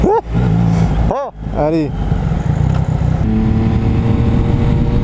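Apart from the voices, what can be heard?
car engine revving with gear shifter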